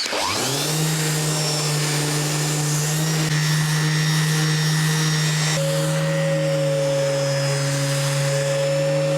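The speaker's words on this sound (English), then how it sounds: "We're just going to take it to the sander next and start off with a 120 grit" Power sander working over wooden boards in a home workshop, a steady loud motor whine that runs without pause, its pitch shifting partway through as the sanding goes on, with no talk.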